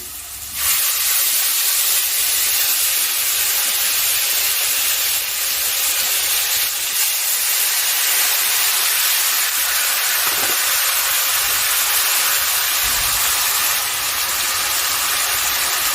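Onion, garlic, ginger, chili powder, turmeric and a little sugar sizzle in hot oil with fried potato for a Bengali fish-roe potato and pointed gourd curry, a loud steady hiss running unbroken from start to finish.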